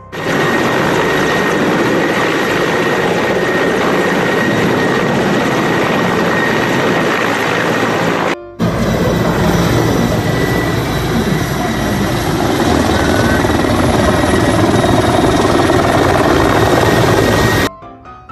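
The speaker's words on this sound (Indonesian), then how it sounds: "Di sini ada helikopter tempur" A steady, loud helicopter rotor whir from a toy military combat helicopter's electronic sound effect plays continuously with a brief cutout partway, then stops abruptly.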